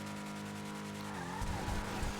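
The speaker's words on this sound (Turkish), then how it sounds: "Arabanın sesi de güzelmiş." Sustained car engine drone in GTA 5 with a rising tone shift midway, followed by rougher rumbling and faint tire noise, no voices.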